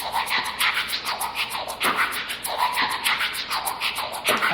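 A shaker rattles in a tight, regular rhythm of crisp, hissy pulses, layered over breathy mouth percussion. The whole pattern is close and steady, with no voices.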